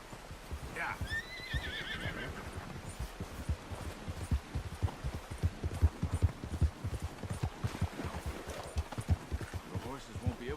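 Steady clip-clop of horse hooves with a brief whinny near the start, rhythmic and close, under a busy Red Dead Redemption 2 soundscape during a train robbery.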